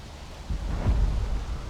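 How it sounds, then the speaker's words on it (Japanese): Rain and thunder in the video game Starfield: a low, soft rumble of thunder swells briefly over a faint, steady wash of rain, quiet and distant, with no voices. "雨降ってきたの？ 雨降ってきたね。"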